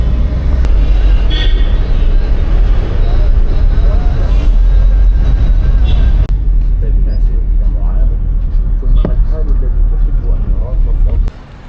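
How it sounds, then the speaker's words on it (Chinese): Busy Cairo street traffic as crowded buses and minibuses pass, with a continuous low engine rumble and road roar, occasional sharper mechanical sounds, and voices faintly mixed in. "这是他们这边的大型的公交车，里面坐满了人哦"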